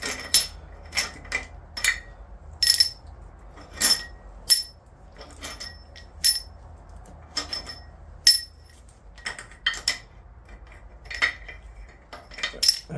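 Bolts pulled from a well-worn 200,000-mile Volvo engine head clink and clatter as they are set down on metal. The sharp, scattered metallic taps come one after another over a quiet background.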